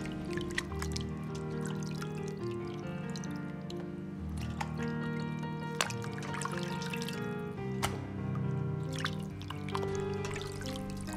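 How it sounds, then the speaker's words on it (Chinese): Chicken frames are rinsed in a basin of clean water, with steady dripping, splashing and trickling close by and no talking. "再次放入清水清洗下"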